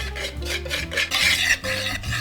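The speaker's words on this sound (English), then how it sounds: "give them a good stir to make sure everything is evenly combined" A spoon stirs sifted dry pancake ingredients in a bowl with a steady scraping, rubbing rhythm of repeated strokes, close and clear, with no voices.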